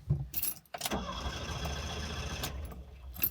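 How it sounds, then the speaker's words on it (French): A car's starter motor cranks without the engine catching, a steady whirring grind that runs for about two seconds after a couple of short clicks, close to the microphone. "ça n'a pas démarré, mais au moins on a entendu le démarreur"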